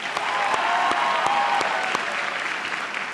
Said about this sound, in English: Please honor them each with a round of applause.